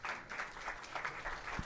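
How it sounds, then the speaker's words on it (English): Brief applause from the audience at a DePIN summit during Token2049 for the session's guests, a short, faint spatter of clapping heard from a distance. "Round of applause for our"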